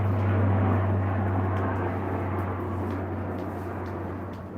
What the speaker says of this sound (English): got an airplane flying over here.